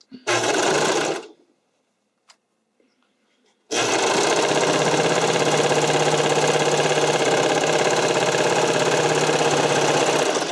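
Sewing machine stitching the stretch seams of a figure skating skirt brief, a short burst of rapid whirring, a pause with small clicks, then a long continuous loud run, close up.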